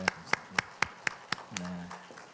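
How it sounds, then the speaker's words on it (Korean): A church congregation at a Sunday morning worship service claps together in six sharp, evenly spaced beats, then the clapping fades as a voice and a sustained tone take over. "우리 힘차게 하나님께 영광의 박수 올려드릴까요?"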